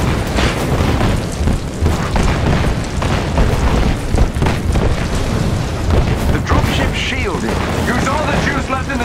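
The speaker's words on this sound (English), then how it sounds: "Their artillery's targeting you. Incoming." Artillery explosions in the Marvel's Avengers video game, a dense run of loud booms and rumbling blasts layered over one another, with game dialogue spoken over the noise.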